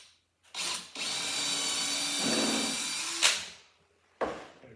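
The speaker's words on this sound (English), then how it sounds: "I pre-drill a hole" A power drill whirs in a short burst, then runs steadily for a couple of seconds as it pre-drills a hole in a house step door, stopping with a final brief spin.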